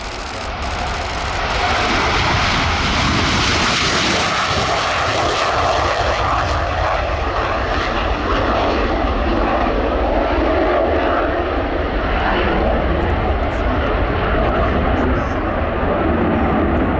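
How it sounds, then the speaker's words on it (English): A Romanian Air Force MiG-21 Lancer C roars through its takeoff roll at the RIAT airshow, a dense, loud, continuous jet blast that holds steady throughout, with an announcer talking over it. "on the roll from the Romanian Air Force, the Mikoyan Gurevich MiG-21 Lancer C"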